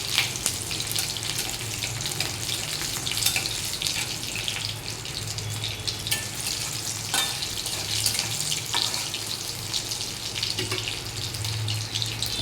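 Green chillies fry in a pan with a steady, close sizzle and crackle, scattered sharper pops breaking through the continuous hiss.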